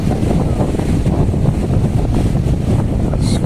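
Strong cool wind buffets the microphone near a waterfall in a continuous loud rushing roar, with faint water sounds underneath and no talking.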